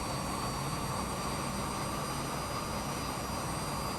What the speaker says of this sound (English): Yeah, just feeding in the power now.